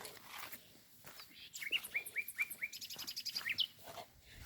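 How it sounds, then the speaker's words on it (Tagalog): Birds chirp noisily at a ranch, with repeated short high tweets growing busier in the second half over faint outdoor background and footsteps. "Ang ingay ng ibon."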